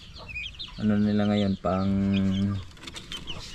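A backyard chicken, one of five hens kept apart from a turkey, gives two loud, close, drawn-out clucking calls in quick succession, with a brief bit of talking at the start and end.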